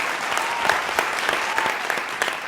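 A studio audience at a televised singing reality show claps loudly as a young singer from Bengaluru is called to the stage, a steady crowd applause with a few sharper individual claps standing out, no talking.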